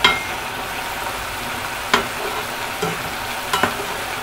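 Tofu and onions pan-fry for a Korean braised bean-curd dish, giving a steady close sizzle with a few sharp scraping stirs of the pan, and no voices.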